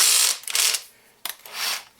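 A power drill spins in two short whirring bursts, tightening a collet that grips a .223 Remington brass case on a Lee case trimmer. The drill sounds fairly close, with a quiet pause between the bursts.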